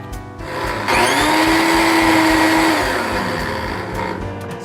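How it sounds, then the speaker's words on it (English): A kitchen blender purees pumpkin for a pie, its motor spinning up into a loud steady whine that holds for a couple of seconds before easing off. "it's a blender. I'll show you."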